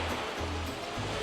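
Sea waves on the South Albanian coast, a constant washing surf noise with low rumbling swells that rise and fall, fairly close and steady, with no voices.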